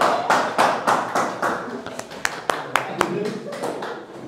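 Clapping from a small classroom group at an essay-reading session, a loose series of sharp, uneven hand claps, some close and crisp, others softer, scattered over a few seconds without settling into a steady roar.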